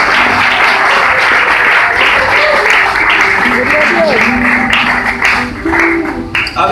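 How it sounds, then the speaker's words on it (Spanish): A church congregation bursts into loud, sustained applause, a close and thick wash of clapping with voices and shouts rising through it. "Fuertes aplausos para el Señor,"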